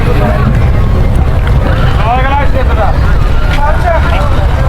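A steady engine drone and water rumble from a motorized trawler boat under way near the Padma Bridge, with people talking over the noise.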